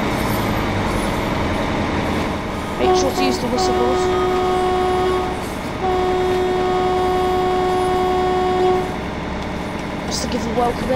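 A simulated passenger train in Train Sim World 2 runs on a Taunton to Minehead line approaching Bishop's Lydiard, with a rumbling engine drone and long sustained horn-like tones cutting in twice, while someone talks over it.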